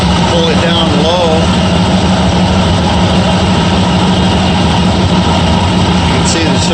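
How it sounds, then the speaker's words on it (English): A carbureted classic truck or car engine, likely a Ford F100 or Rambler Classic 770, idles at a high speed with a steady, loud, continuous drone close by, and a voice briefly speaks over it. "The idle's pretty high, not bad."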